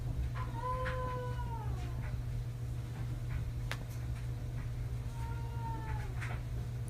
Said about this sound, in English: It sounds like his cat is stuck in his dryer.